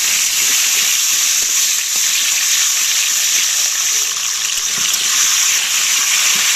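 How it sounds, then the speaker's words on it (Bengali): Diced potatoes fry in hot oil with a few black cumin seeds, a loud, steady sizzle throughout with faint scraping and clicks as they are stirred in the pan. "এবার ডুমো ডুমো করে কাটা আলুগুলোকে আমি তেলেতে দিয়ে দিলাম ভালো করে নেড়ে ফেলে দেবো"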